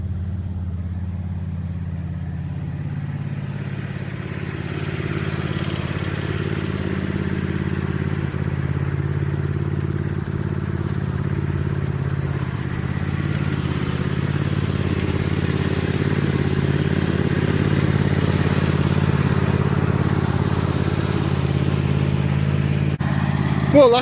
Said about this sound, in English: Well, that's the red tractor out.